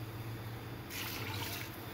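Water pours steadily into a metal pressure cooker, a soft continuous splashing rush close by with a low background hum.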